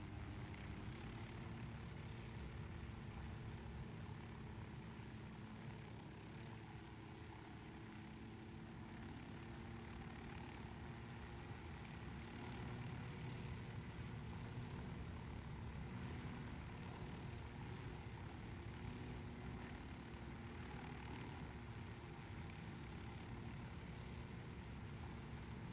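Constant droning helicopter engine and rotor in the video game Ghost Recon Wildlands, a quiet steady hum running throughout with no talking.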